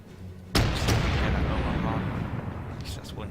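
A sudden heavy boom of warship gunfire in World of Warships, a sharp salvo that rolls out into a long, loud rumbling decay, with faint voices in the background.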